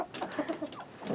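Hens cluck inside a henhouse, a quick run of short, close clucks in an uneven rhythm, clear and moderately loud with no talking.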